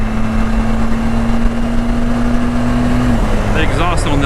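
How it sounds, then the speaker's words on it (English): Car engine intake air rushes loudly and continuously with a steady droning tone, exhaust barely audible beneath it; engine note shifts near the end as someone speaks. "So I think about everything that I hear is the actual intake."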